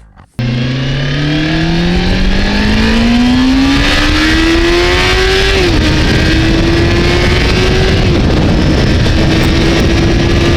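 A Triumph Daytona 650 motorcycle engine accelerates hard, its loud whine climbing steadily in pitch through the gears, easing at a shift and then holding high as it races by nearby.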